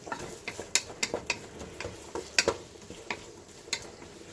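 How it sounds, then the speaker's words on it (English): Onions sizzling in a pan while a spoon stirs them, giving a soft steady frying hiss broken by irregular scraping clicks and taps, close and alone. "basically stir in your onions until they are clear"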